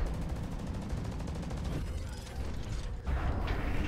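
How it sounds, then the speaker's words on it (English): Rapid mechanical gunfire from the lawnmower gun in the Hawken mech combat game, a dense ratcheting rattle that runs steadily through the whole stretch and swells louder near the end. "Oh, lawnmower gun."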